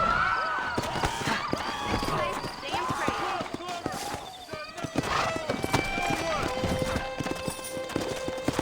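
Hooves clop in a quick, irregular trotting rhythm in the video game Red Dead Redemption Remastered, several horses close by, loud and continuous throughout.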